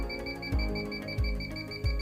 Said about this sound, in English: While in manual zero mode, the idle beep rate is faster and increases or decreases with changes in the background concentration.